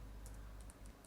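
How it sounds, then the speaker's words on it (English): Quick, faint clicks of typing on a computer keyboard, a few scattered keystrokes over a low background hum. "I'm just typing some"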